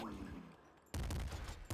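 Gunfire in the video game Nuclear Throne: a loud, dense burst of rapid game shots starts abruptly after a quieter stretch and carries on to the end of the clip.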